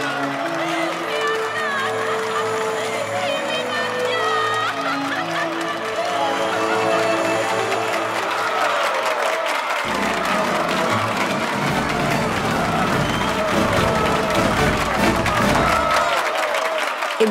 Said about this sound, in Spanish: el público, entusiasmado por eso que sí tiene Nana en abundancia, empieza a aplaudir frenéticamente